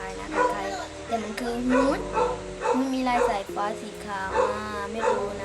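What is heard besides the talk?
dog barking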